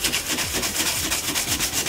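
Cracked car bumper sanded by hand with fast, steady back-and-forth strokes, a loud close abrasive rasp that pulses evenly about eight times a second.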